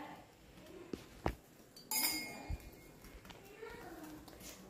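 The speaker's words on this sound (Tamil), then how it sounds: "ஸோ இதை வந்து இப்படி நல்லா மிக்ஸ் பண்ணிக்கலாம்." A spoon clinks and scrapes against a pan while homemade tomato sauce with red chilli powder is mixed, giving a few sharp metallic taps and soft scraping at close range, fairly quiet.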